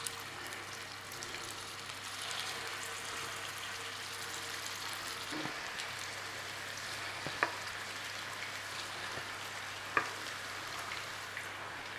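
Beef meatballs frying in a pan: a steady, moderately faint sizzle and crackle with a few soft clicks and taps of turning, continuous throughout with no talk.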